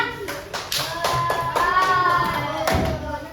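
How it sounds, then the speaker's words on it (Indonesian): Schoolchildren in a classroom clap for a classmate who has come up to the front, a loose patter of many small hands with a voice and other chatter mixed in. "Tepuk tangan untuk temennya yang maju."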